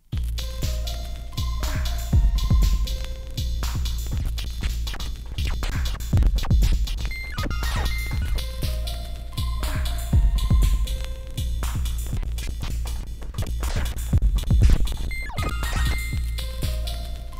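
Scatter pads on a Roland MC-707 groovebox producing a virtual scratching effect over a loud, dense electronic pattern, with thumping low beats, repeating tonal stabs and glitchy, chopped repeats running continuously and strongly throughout.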